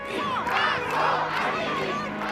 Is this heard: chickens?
no